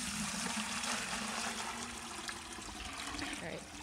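Two gallons of water pour into a black bucket in a continuous, close, rushing splash that holds steady throughout, with no talk over it.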